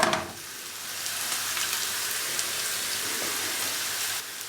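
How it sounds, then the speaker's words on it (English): Chopped onion sizzles and crackles in a hot pan while being stirred, a loud steady frying hiss with faint scraping throughout and no voices. "Add a chopped onion. Stir and brown for 2 minutes until tender."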